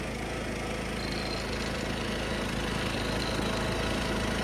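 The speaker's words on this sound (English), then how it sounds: "It's a great running mower, obviously, but I just want to get it, get the engine redone before it fully lays down." A 1976 John Deere 300 riding lawnmower, engine due for a rebuild, idling steadily close up with a loud, even low-pitched drone and constant mechanical vibration, no voices.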